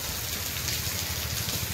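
Heavy rain pours in a dense, steady roar of drops striking surfaces, close and loud throughout the short stretch, with no voices.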